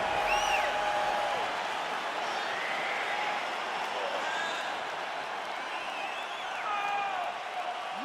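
Crowd noise at a UFC bout in EA Sports UFC 4 swells steadily as the fight starts, a continuous excited roar with scattered whoops and whistles filling the arena.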